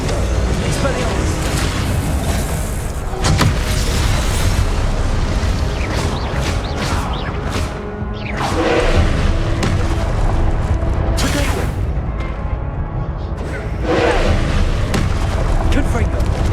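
Confringo blast spells exploding in Hogwarts Legacy, a dense run of loud booming impacts with rumbling debris, repeated over and over while a voice keeps shouting spell names.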